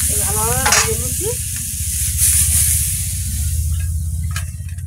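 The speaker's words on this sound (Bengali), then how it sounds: "চিংড়ি মাছগুলো নামিয়ে নেব। ভালোভাবে ভেজে নিচ্ছি।" Shrimp frying in a pan with a loud, continuous crackling sizzle and spattering oil close up, steady throughout with occasional stirring.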